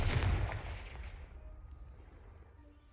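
A Confringo fire spell explodes in Hogwarts Legacy: one loud, close booming blast at the start, then a long rumbling decay that fades away over a few seconds with no voices.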